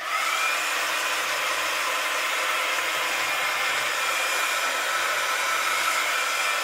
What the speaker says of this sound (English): let me just get my heat gun and dry these.